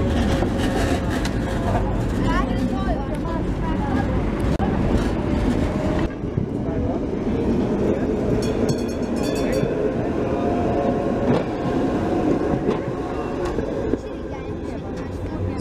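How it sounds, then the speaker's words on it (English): A new-model Budapest tram on route 19 rolls along rails with a loud, continuous rumble and squealing metallic tones, close by and steady throughout. "And there is a tram now."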